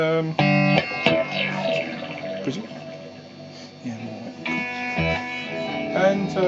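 Electric guitar played through an OCD overdrive pedal with compression, sustained distorted chords and single notes ringing with a bright harmonic edge, loud and steady with a few pick attacks and short gaps.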